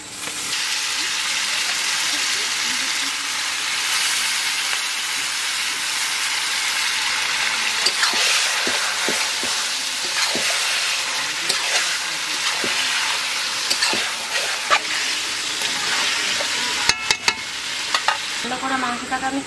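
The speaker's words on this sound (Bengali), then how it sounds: "ভালো করে মাংসটাকে আমি কষিয়ে নেব।" Goat meat fries in a pan with salt and turmeric while being stirred, giving a steady broad sizzle across the whole stretch with scattered scraping clicks and a few sharper knocks near the end.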